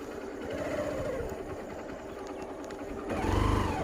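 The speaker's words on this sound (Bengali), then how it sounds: "অনেক কষ্ট করে আসলে বাইকটা উঠাইলাম।" A motorbike engine labours and revs while climbing a steep hill road, a steady close drone that swells louder near the end.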